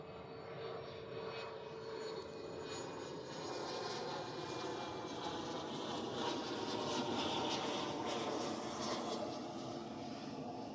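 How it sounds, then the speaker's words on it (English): A small private jet on approach to land on runway 14 at Zurich Airport, its engine noise a steady broadband roar that holds loud and even throughout, swelling slightly midway as it passes. "Small private jet incoming."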